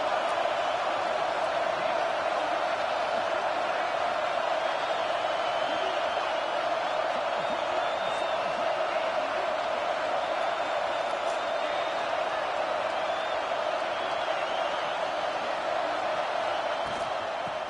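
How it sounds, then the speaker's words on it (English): A college football stadium crowd roars steadily during a third-down defensive stand in the red zone, a dense, continuous wall of distant cheering with no breaks. "this crowd imploring its defense to stand firm"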